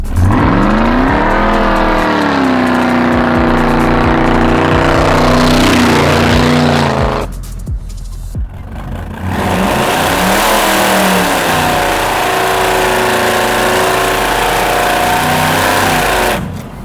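A supercharged big block Chevy C10, right hand drive, revs hard with tire spin: a loud, rising engine howl and screech for several seconds, a brief dip, then another sustained wailing run.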